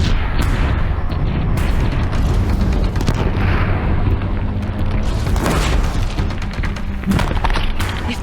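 Deathbringer machines firing explosive rounds during a Horizon Zero Dawn battle on a bridge at Meridian, a relentless barrage of heavy booms and thuds over a continuous loud rumble, with sharper blasts in quick succession and no speech.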